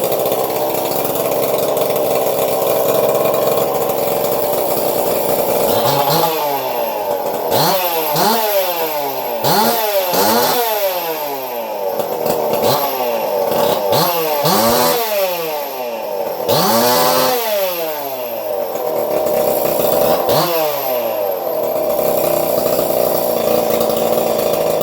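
A small engine on a freshly retuned carburetor idles loudly and steadily for about twenty seconds, its sustained drone broken by a series of quick blips and swooping revs that rise and fall repeatedly.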